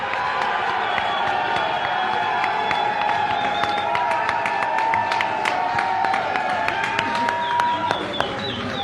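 A live theater audience in Philadelphia claps, cheers and whistles for a contestant during a radio show broadcast. The roar of the crowd is full and sustained, with sharp individual claps standing out throughout.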